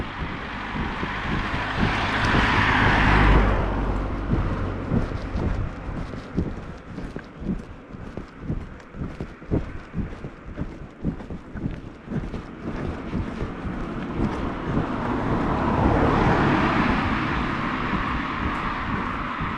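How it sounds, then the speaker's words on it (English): A car passing on a road in Albania, with engine and tyre noise swelling near at the start and again toward the end under strong wind buffeting on the microphone. "There's another car coming."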